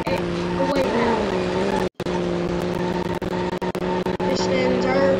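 A car races and skids in a video game, its engine holding a loud, steady tone under squealing tires and a quick break in the sound. A voice talks over it throughout.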